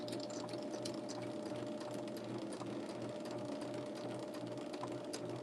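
A sewing machine stitching quilt block pieces for a sawtooth star block, with a steady rapid mechanical whir and fast rhythmic needle ticking, close and even throughout without talk.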